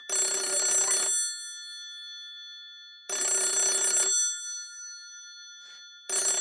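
A telephone rings in loud, shrill bursts: two full rings about three seconds apart, a third starting at the end, with silence between.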